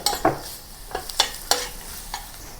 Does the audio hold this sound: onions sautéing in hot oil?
yes